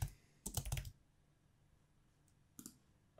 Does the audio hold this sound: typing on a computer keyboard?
yes